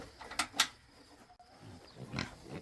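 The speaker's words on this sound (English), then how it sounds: "Spoiled pig." A pet pig on a family farm grunts and squeals in a few short bursts at close range during feeding time.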